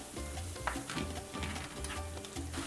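Paella ingredients are stirred together in a hot, sizzling pan, with rhythmic scraping strokes repeating over a continuous crackle.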